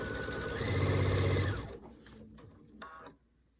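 A sewing machine stitches scalloped binding around a quilt with a steady mechanical whir. It runs loud at first, slows and fades, and then a few soft clicks follow.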